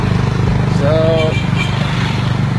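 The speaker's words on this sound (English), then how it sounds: "a couple of Hartsville guys on a motorcycle taxi in Salidero" Buzzing small-engine drone of a motorcycle taxi in Salidero, steady and fairly loud up close, with a brief horn-like tone partway through and voices over it.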